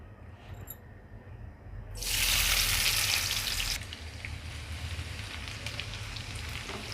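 Onions hit half a cup of hot oil in a pan with a sudden loud sizzle that settles into a steady, softer crackling fry.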